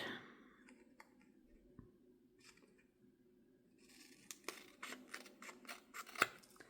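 Scissors trim the overhanging edge of a paper index card with a few faint snips at first. A rapid series of sharp, close cuts then follows and ends with a louder final snip.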